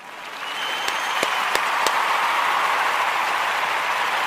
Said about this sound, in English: I want to give all of the Kujichagulia babies a round of applause.